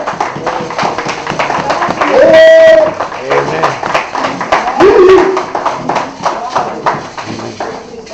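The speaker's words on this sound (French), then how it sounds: "Acclamez pour le Seigneur." Church congregation clapping in praise, steady rhythmic applause under a preacher's loud voice in French, with shouts rising over the crowd.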